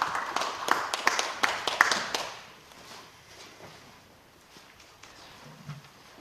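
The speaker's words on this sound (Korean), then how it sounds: "박수로 크게 환영하겠습니다." A small audience at a church policy forum claps in a scattered, moderately close burst that tapers off after about two seconds, followed by quiet room tone and faint shuffling.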